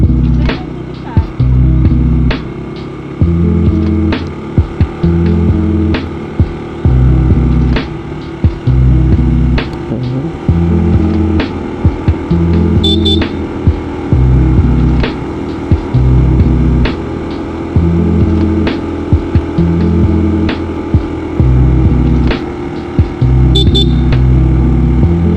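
An ADV160RS scooter engine climbs a hill at part throttle, its steady drone pulsing in a rough rhythm throughout, with someone talking over it.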